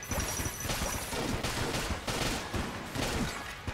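Rapid, continuous weapon fire from a Void Shotgun and Luxon cannon in the game Enter the Gungeon, dense bursts of blasts and impacts running steadily throughout with no pauses.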